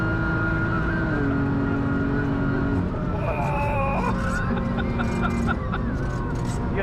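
BMW M3 race car run as a Nürburgring ring taxi by Team Schirmer & Apex, heard from inside as a loud, steady engine drone with rising and falling pitch through gear changes, while voices talk over it.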